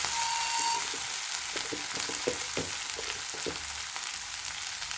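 Cooked okra stirred in a hot pan, sizzling steadily with soft scraping strokes of the spoon; no talking.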